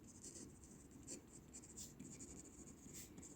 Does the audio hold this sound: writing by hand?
yes